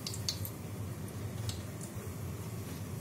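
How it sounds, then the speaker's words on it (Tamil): Mustard seeds, cumin, fenugreek and curry leaves tempering in hot oil for a crab curry, with a few scattered sharp pops and crackles over a low steady background hiss. "கடுகு நல்லா வெடிக்கட்டும்."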